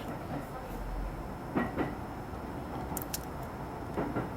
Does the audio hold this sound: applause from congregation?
no